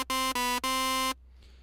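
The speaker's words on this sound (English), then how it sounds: "Kind of sounds like a future bass lead or something like that." Ableton Operator synth patch shaped into a future bass style lead plays three bright, buzzy sustained notes in quick succession, then cuts off into near silence.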